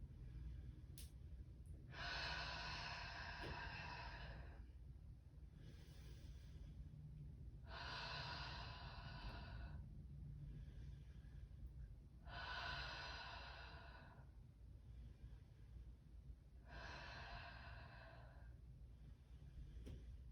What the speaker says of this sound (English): we'll take 5 deep breaths here